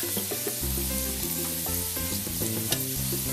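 Fry bakes frying in hot oil, a loud, dense and continuous sizzle and bubbling close up, steady throughout with no voices.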